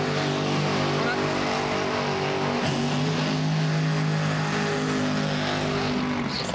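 Loud, continuous engine roar from drag racing cars at an elimination round, a dense broadband rumble with steady low tones that waver and dip briefly near the middle before holding strong to the end.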